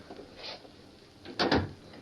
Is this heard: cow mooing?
no